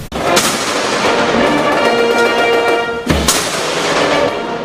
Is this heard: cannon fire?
yes